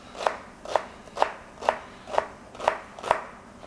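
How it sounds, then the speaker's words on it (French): Celery chopped into small pieces with a knife on a board, seven crisp, evenly spaced cuts in a steady rhythm, close and clear with no talking. "on vient couper en petits morceaux"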